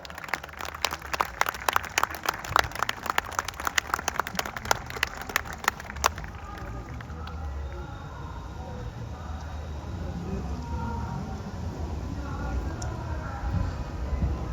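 A large audience claps as guests are welcomed onto the stage at the Jashn-e-Rekhta festival. Dense, crowded clapping fills the first six seconds, then fades into a murmuring hall with a distant voice over a public address system.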